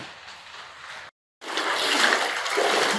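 Floodwater splashes and sloshes inside a flooded house, a continuous watery wash broken by a brief silent gap before the splashing resumes, loud and near.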